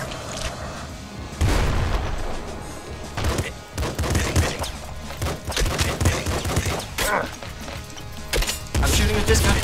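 Machine gun fire and explosions in the top-down shooter Nuclear Throne, rapid bursts of sharp shots and booms at uneven intervals over game music.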